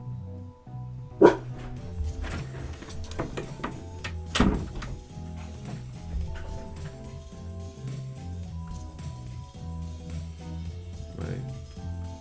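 A pet dog gives a few sharp, loud barks near the start and middle after a door opens indoors, with music and softer household sounds underneath.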